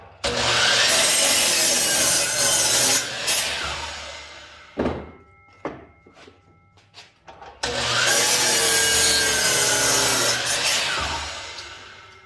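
Two long, loud bursts of a power saw cutting a wood block, separated by a quieter pause filled with a few wooden knocks and clatters.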